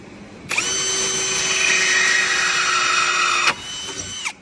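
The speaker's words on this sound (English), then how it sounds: "we're just going to see how easy it is to drill through it" A power drill whines steadily at close range, boring a pilot hole through compact laminate for about three seconds before spinning down.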